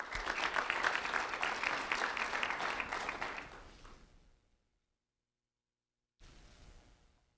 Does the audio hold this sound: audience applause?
yes